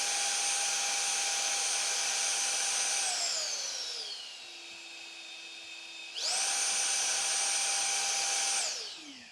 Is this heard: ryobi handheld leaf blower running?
yes